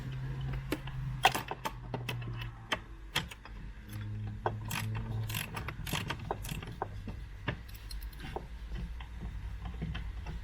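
A ratchet clicks and a tool turns a T45 Torx seat belt bolt on a Range Rover L405, with scattered sharp ticks, short mechanical whirs and faint handling noises, close and quiet.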